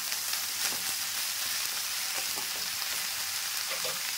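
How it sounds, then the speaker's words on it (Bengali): Snake gourd slices fry in hot oil in a wok, giving a continuous soft sizzle and crackle at low volume with no talk over it. "এবার চিচিঙ্গিগুলোকে দিয়ে আমি ভালো করে এগুলোকে ভেজে নেব।"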